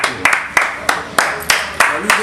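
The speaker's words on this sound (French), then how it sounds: "On peut s'applaudir en tant que Congolais." Rhythmic group clapping from a crowd of young Congolese people in Belgium, a steady run of sharp unison claps about three per second, close and loud, with voices faintly underneath.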